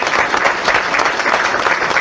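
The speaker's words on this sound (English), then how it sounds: "I'd just like to stand up and give those guys a round of applause." An audience at a reorganization meeting stands and applauds police officers, a loud, dense, steady burst of clapping lasting a couple of seconds.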